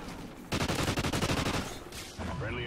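Automatic gunfire in a competitive MLG video game match: a fast, steady burst of roughly fifteen loud shots lasting over a second, then a brief pause before more noise picks up.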